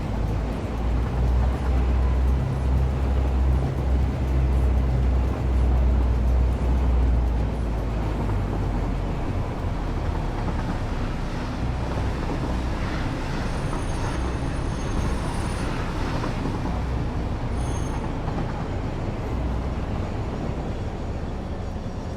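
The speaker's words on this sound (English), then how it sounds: "Train ride complete." Steady rumble of a train ride in the factory game Satisfactory, rolling wheels and a low drone holding loud and even throughout, with faint higher squeals toward the end and no talk.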